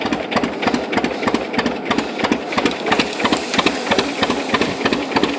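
A John Deere G tractor engine runs steadily at close range during cover crop planting on a small acreage, giving a loud, rhythmic chugging beat of evenly spaced, punchy exhaust pulses with no talk.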